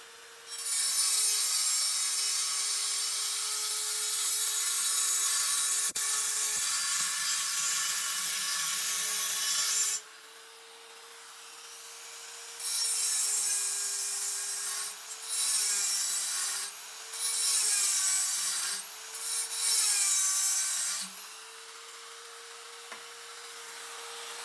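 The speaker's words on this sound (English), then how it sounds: "this electric die grinder I got from Snap-on" An electric die grinder from Harbor Freight grinding metal on an early Ford hot rod, a high whine held steady for ten seconds, then cutting in and out in short bursts with a dipping pitch as the load changes.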